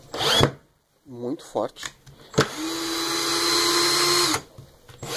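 A Bosch GSR 1000 cordless screwdriver drives a screw into hard MDF with a sustained high motor whine lasting about two seconds, preceded by speech and a short click.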